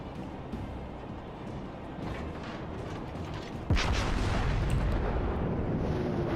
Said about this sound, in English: He's gonna fire a salvo